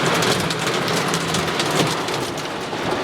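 A heavy rain storm drumming down hard and close in a dense, unbroken hiss of pelting drops, steady and loud throughout with no voices.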